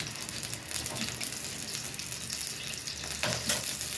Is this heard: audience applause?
no